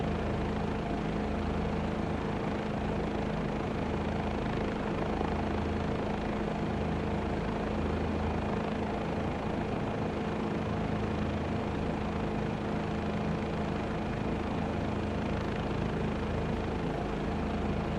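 A helicopter drones steadily in Microsoft Flight Simulator 2024 during a low heli tour over Providence, with an unbroken loud rotor and engine hum and a faint whine holding throughout.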